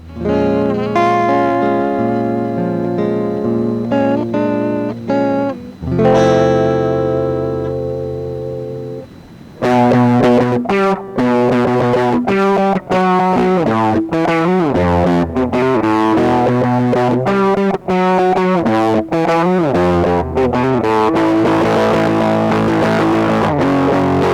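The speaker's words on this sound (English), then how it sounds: "So on the second take, we actually want that fat tape distortion." Gritty, saturated cassette tape distortion colours a melodic instrumental line, first in a few sustained notes, then a busier distorted passage after a brief drop.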